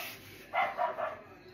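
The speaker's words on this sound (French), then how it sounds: "Voici un son de chien." A dog barking played through an Alexa smart speaker, two or three short, quiet barks in quick succession, faint and slightly distant in a quiet room.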